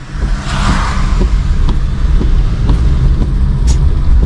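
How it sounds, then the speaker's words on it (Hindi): A car accelerating through its gears while learning to drive, a steady close engine rumble with slight surges as it speeds up, alone with no talk. "फर्स्ट गियर लगा लिया, हाफ क्लच छोड़ा, एक्सीलेटर, उसके बाद सेकंड गियर"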